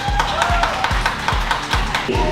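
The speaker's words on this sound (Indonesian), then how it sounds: "tepuk tangan dong" Rhythmic clapping at a singing audition event, steady beats close and loud with a low thumping pulse, over a noisy hall.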